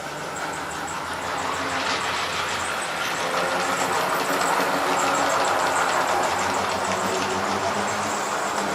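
A model train rolls steadily through a tunnel portal on a layout, a continuous even rumble and rail clatter at moderate level without pause.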